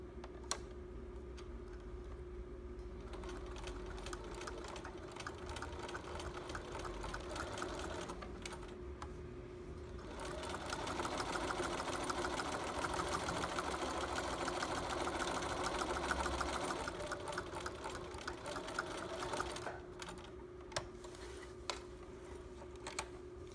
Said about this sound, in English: all I have to do is just continue sewing this one little bit of my binding seam